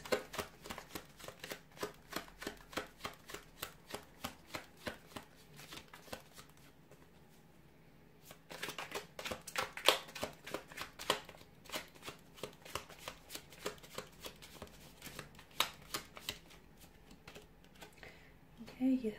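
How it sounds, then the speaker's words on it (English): A deck of tarot cards is shuffled close up, giving rapid riffling bursts that repeat in steady waves with a brief pause midway; soft talking is faintly present underneath. "we'll go ahead and give the cards a shuffle"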